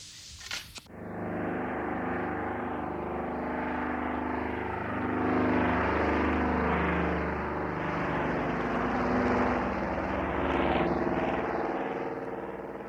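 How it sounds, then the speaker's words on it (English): A de Havilland Caribou propeller plane in the Arctic takes off, its engines droning loud and steady with a rising, throbbing pitch that holds for over ten seconds after a brief sharp noise at the start; no talk. "The plane takes off,"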